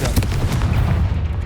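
A Confringo fire spell detonates in Hogwarts Legacy, a loud booming blast with rumbling low-end that stays dense and sustained through the short clip, with no one talking.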